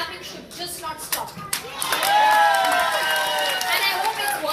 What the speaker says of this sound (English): I need a huge round of applause and the clapping should just not stop